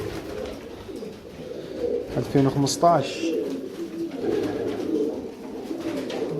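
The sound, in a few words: Donk breed pigeons cooing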